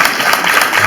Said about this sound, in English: By round of applause, a couple of married folks.